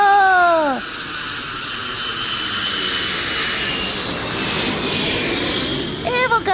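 An airplane roars in a loud, sustained broadband rush that swells and holds, with brief voices at the start and end.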